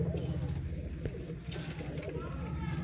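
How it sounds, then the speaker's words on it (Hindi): An Indian Jakh pigeon coos softly in repeated low throaty phrases, heard close under someone talking. "ए ने दोस्तों इंडियन जाख कबूतर"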